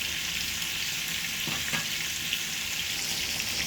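Tomatoes sautéing in a pan for a Filipino mung bean stew, a steady bright hiss of frying with a couple of brief stirring scrapes, close and continuous with no talking.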